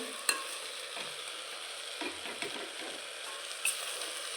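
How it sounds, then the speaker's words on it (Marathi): Fresh coriander is sautéed into a ghevda rice mixture in a pan, a quiet, soft sizzle with a few light scraping strokes and an occasional clink of the spoon. "कोथिंबीर टाकून झाली की ती पण आपल्याला परतून घ्यायचं आहे"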